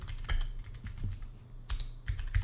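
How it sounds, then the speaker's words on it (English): Typing on a HyperX tenkeyless mechanical keyboard, a close run of crisp key clacks in an uneven, steady rhythm with a few heavier thocks, loud and alone without talk. "Can you guys just hear it when I type like this?"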